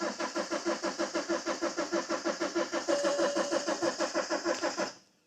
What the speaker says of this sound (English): Does it crank? Does it not crank?